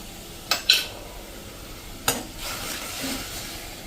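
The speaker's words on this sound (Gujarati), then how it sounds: "આ 1 કપ ટમેટાની પ્યુરી કરી છે એને એડ કરી દઈએ અને એને પણ આપણે કૂક થવા દેશું." Tomato puree cooking in a pan with salt, a low sizzle with a few sharp scrapes and clinks of a spoon stirring against the pan, heard close with no talk.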